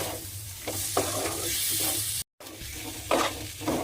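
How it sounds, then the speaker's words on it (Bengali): Fried potatoes stirred in a pan for goat-fat ghugni, a steady close sizzle with scraping spoon strokes, briefly cut to silence partway through. "আলুটা আমি এর মধ্যে দিয়ে আবারও কিন্তু একটু ভালোভাবে কষিয়ে নেব।"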